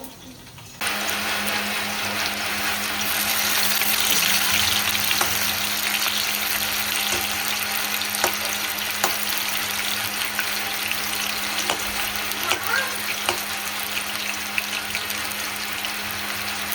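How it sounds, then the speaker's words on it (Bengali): Taro, potato and eggplant frying in oil left from frying hilsa, a loud, continuous close sizzle with faint scattered clicks throughout. "ইলিশ মাছ ভাজার তেলটাতেই কচুও ভাজবো, আলুও ভাজবো, বেগুনও ভাজবো"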